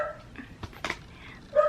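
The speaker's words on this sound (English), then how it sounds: "I'm sorry if you hear my dogs barking." A few short dog barks and yips, fairly quiet and scattered, with a louder bark at the end; sounds like dogs playing in another room.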